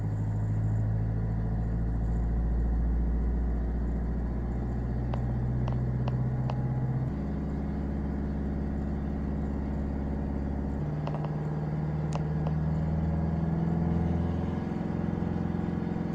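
A car left idling during lockdown so the battery charges, a steady low engine hum and rumble that holds for the whole stretch with slight shifts in pitch and a few faint clicks.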